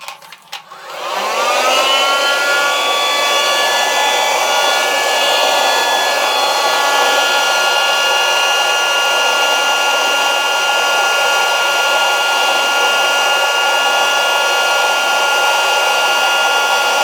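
Heat gun blowing hot air onto heat shrink tubing on RG58 cable, a steady loud whooshing roar with a faint whine that starts after a second and runs unbroken to the end.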